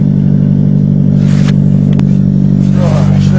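Toyota engine idling after a cold start in snow, a loud steady low rumble with a strong hum, briefly cut by a sharp click and some faint scraping, while someone speaks over it.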